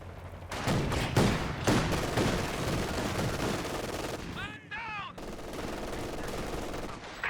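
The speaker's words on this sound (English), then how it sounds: "Taking infantry fire." Rapid infantry gunfire in the video game Company of Heroes 2, dense overlapping rifle and machine-gun bursts with a brief whistling shell and impact near the middle, continuing steadily.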